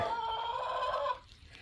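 Backyard chickens, one of them molting, give a steady run of clucking and low throaty calls for about a second, close and moderately loud, then fall quiet.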